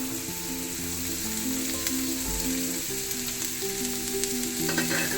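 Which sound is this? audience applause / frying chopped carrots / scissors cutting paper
frying chopped carrots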